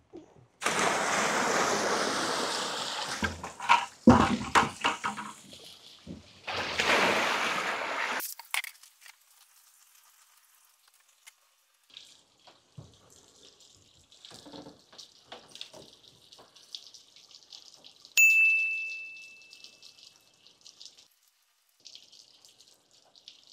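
Ten gallons of water pour through a 3-inch perforated drain pipe, rushing loudly in surging waves for several seconds, then fading to faint trickles and drips.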